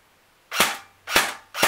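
An AS VAL airsoft AEG with an empty magazine fires on semi-auto, producing three sharp, close mechanical shots spaced about half a second apart with nothing else around them.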